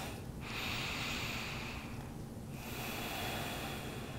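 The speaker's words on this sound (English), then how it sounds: "And then I'm taking deep breaths." Deep, slow breathing during a yoga pose: a long airy breath, a brief pause, then another drawn-out breath, close and soft with no talking.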